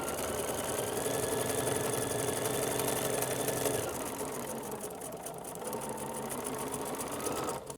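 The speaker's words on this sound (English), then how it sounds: "now I can finish stitching" A sewing machine stitches a black and white two-color quilt, a close, steady motorized hum with fast needle chatter running throughout, easing slightly in loudness midway.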